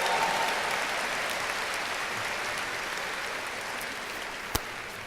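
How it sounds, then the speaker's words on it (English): Steady audience applause for faculty and staff at a university orientation, a dense even wash of clapping that holds for the whole stretch, with one sharp louder clap near the end. "Another round of applause, perhaps, for our faculty and staff who've worked hard."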